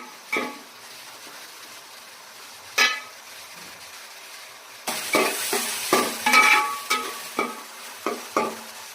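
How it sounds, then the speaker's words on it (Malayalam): Chicken curry with crushed ginger and garlic being stirred in a hot pan, a few isolated scrapes at first, then a faster run of repeated spoon scrapes and clinks over a soft sizzle, close by with no talking. "രണ്ട് മിനിറ്റോളം നന്നായി ഇളക്കി കൊടുക്കുക"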